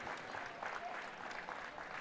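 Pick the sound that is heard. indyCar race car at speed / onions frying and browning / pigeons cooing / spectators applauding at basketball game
spectators applauding at basketball game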